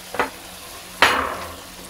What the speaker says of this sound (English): So it need to fry for at least 4 to 5 minutes so it will get the taste of all our spices inside.